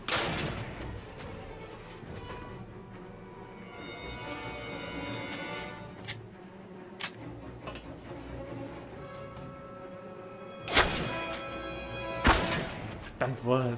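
Gunfire in Call of Duty Classic aboard a warship: scattered single shots and heavier booming bursts over continuous battle noise, with loud volleys near the end.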